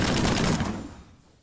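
A rapid-fire gun in the Minecraft Create Automotives mod unloads in a dense burst of shots, loud at first and then quickly tailing off.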